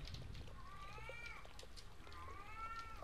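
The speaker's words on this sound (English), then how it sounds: "There's a meowing kitty cat" A cat in the horror game Erie gives two plaintive meows about a second apart, faint and distinct over low background noise.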